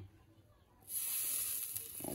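Cooking oil poured into a hot, empty kadai bursts into a loud, steady sizzle after a quiet moment, hissing continuously to the end.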